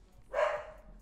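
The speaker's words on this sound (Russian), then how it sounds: "Гавкает кто-то." A single short dog bark, fairly near and moderately loud, standing alone against a quiet background.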